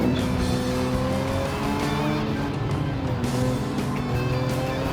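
In Gran Turismo 7, the engine of a Porsche 911 Strassen road car runs loud and continuous during a race event, rising and falling gently in pitch with hints of tire squeal.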